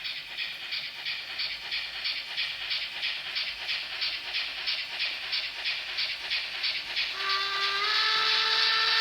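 Fleischmann DR 44 0592-4 model steam locomotive with a DCC Next18 Henning sound decoder: a rapid, even chuffing runs under a steady hiss, then a sharp, shrill steam whistle sounds near the end.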